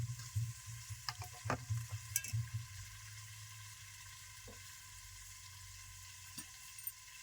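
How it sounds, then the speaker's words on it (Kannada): Fish frying in a pan sizzles steadily, with brief stirring and scraping knocks early on before the hiss settles into a softer, even fry. "ಇದೇ ರೀತಿ ಇದಿಷ್ಟು ಮೀನನ್ನ ಫ್ರೈ ಮಾಡಿ ತಗೋತೀನ್ರಿ"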